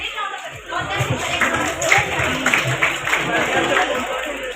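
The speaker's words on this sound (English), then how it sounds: "give it a big round of applause" Applause from a school audience at a career-fair quiz, a dense steady patter of clapping with crowd murmur and voices mixed in throughout.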